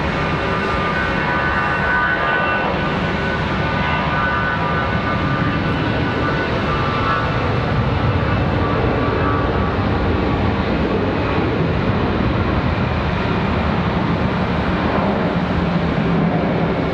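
An airliner at Charlotte Douglas International Airport makes a loud, continuous broadband engine roar that holds steady for the whole stretch, with no distinct voices.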